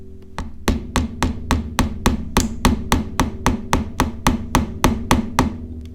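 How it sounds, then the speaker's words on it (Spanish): Steady run of about fifteen sharp hammer blows driving a small nail into a wooden wallet, evenly spaced, close and loud with a faint hum beneath. "ahora simplemente lo voy a martillar un poquito"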